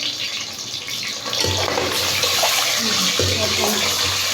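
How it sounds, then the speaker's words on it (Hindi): Eggs frying in hot oil in a pan while potato-egg curry is being made, a steady hissing sizzle throughout, getting denser partway through with soft clinks of a spoon. "इस तरह से हम ऑयल में फ्राई करेंगे। फ्राई कर रहे हैं अंडों को।"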